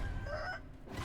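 A rooster crows in the video game Sekiro, a single drawn-out call over a dense, loud rumbling game soundscape.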